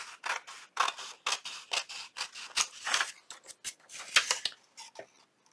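Scissors trimming paper snip repeatedly in quick, uneven bursts, close and crisp, with short pauses between cuts and no talking.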